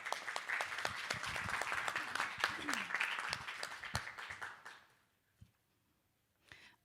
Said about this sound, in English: Can we have a round of applause for Tristan?